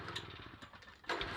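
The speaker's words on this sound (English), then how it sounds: "An old generator had been connected to the power cable." An old generator runs in the Alan Wake video game, a faint, close, chugging engine putter with a steady uneven rhythm, ending in a sharper louder burst of noise.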